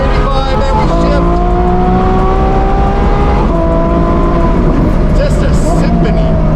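A loud high-revving twin-turbo Ferrari F12 engine roars steadily, its pitch dropping in stepped downshifts with crisp blips, no talking over it.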